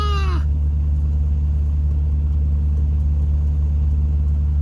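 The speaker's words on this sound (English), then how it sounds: "Yay, the pilot car is coming back." A pilot car approaches at a road construction stop on a dirt road, heard from inside a waiting vehicle as a steady low engine rumble and road drone, with a brief rising tone at the very start.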